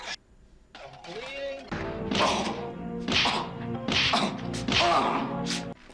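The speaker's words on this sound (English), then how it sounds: "The punches might be a little more believable if they didn't have that goofy sound effect over them" Punch sound effects from a 1993 action movie fight scene, several dull thumping hits landing in an irregular rhythm over loud voices, grunts and music.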